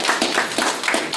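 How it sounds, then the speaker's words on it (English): A small group at a town council meeting claps in brief rhythmic applause for the founding anniversary of Port Royal, a few scattered hands heard near and moderately loud. "So I'd like to just offer up a round of applause to Port Royal"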